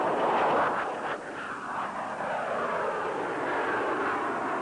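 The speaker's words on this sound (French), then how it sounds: "L'avion s'accélère rapidement." Mirage Balzac experimental French VTOL fighter jet accelerating, a loud sustained roar of jet engines with a broad rushing texture that shifts slightly in pitch.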